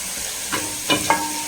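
Biryani masala for a Hyderabad mutton biryani fries on a high flame with a brief, steady sizzle broken by two or three quick stirring scrapes close by.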